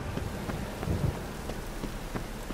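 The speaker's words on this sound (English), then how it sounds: "Great rain." Steady rain falls in a fantasy role-play game world, a continuous hiss of drops with low rumbling underneath, moderately quiet and unbroken for the whole stretch, with no voices.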